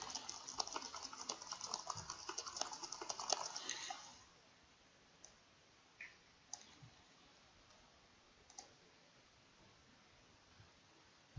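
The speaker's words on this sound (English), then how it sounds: "and we type." Rapid, dense clicking of a computer keyboard for about four seconds, close and quiet, then a near-silent pause broken by a few isolated clicks.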